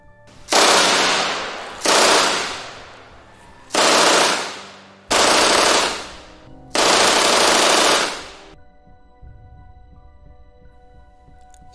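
Heavy machine gun fire in a battle against German forces with half-tracks, arriving as five long, loud sustained bursts separated by short gaps, close and dominant, ending in a low rumbling tail.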